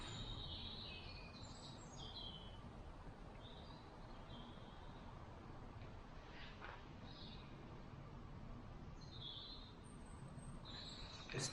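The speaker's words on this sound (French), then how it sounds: "On a encore la mélodie des oiseaux." Birdsong drifts from outside a château: scattered short chirps and calls, fairly faint and distant, over a steady broadband hiss of outdoor ambience, with no voices.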